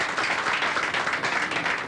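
Sustained applause from a television studio audience at a 2007 birthday celebration on Mirtha Legrand's show, dense steady clapping filling the whole stretch at an even level with no voices on top.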